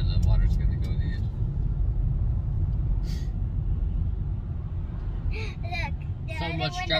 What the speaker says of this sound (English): Look, so much traffic.